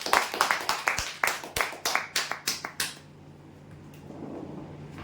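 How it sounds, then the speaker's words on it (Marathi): A dozen or so sharp claps from a small audience at a prize-draw event ring out in a quick, uneven burst for about three seconds, then stop, leaving a quiet room with faint background hum. "जोरदार टाळ्या होऊ द्या यांच्यासाठी."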